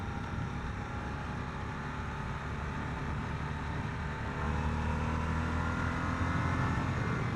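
A 2021 Harley-Davidson Sportster S engine rumbles steadily in third gear around 4,000 RPM amid road and wind noise, then swells louder partway through as the throttle is twisted open.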